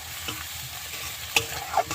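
Onions frying in a pan as salt and turmeric go in, with a steady low sizzle and a couple of sharp spoon scrapes against the pan over two seconds.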